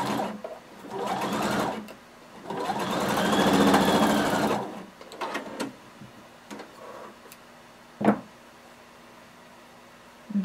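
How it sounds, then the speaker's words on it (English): A sewing machine stitches down pleats on a jumpsuit bodice in several steady whirring bursts with brief pauses, followed by a few quieter clicks and a sharp tap near the end. "we're going to stitch it down just the way we did for the other pleats."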